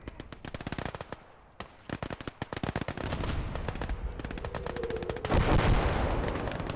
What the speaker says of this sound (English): Let's get some artillery shells here.